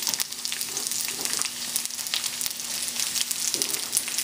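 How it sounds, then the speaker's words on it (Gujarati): Onions frying in a thin layer of olive oil in a kadai for a vegetable and meat stir fry make a steady, close sizzle full of fine crackles and spits, with no one speaking. "એની અંદર આપણે નાખી દઈશું આપણી ડુંગળી."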